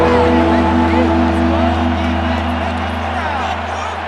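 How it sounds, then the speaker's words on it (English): Stadium crowd in Madden NFL 26 roars and cheers loudly during a Jaguars versus Raiders game at third down, a dense sustained wall of noise with a low hum, steady throughout. "This crowd into it now as we get to third down."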